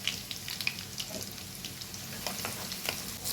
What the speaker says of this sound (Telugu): ఇప్పుడు ఇవన్నీ కలిపి గోల్డెన్ బ్రౌన్ వచ్చేంత వరకు కొద్దిగా ఫ్రై చేసుకుని